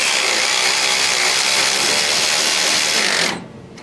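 A Durofix G12 12V cordless extended ratchet runs with a loud, steady motor whir as it tightens a fastener, then cuts off sharply near the end.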